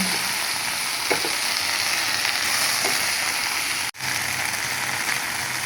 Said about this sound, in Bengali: ঢেঁড়সটা সুন্দর করে ভাজি ভাজি করব।